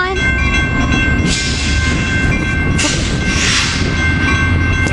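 A Coaster commuter train rolls past at close range through a San Diego quiet zone, with a steady loud rumble of wheels and rail noise filling the whole stretch and no horn sounded.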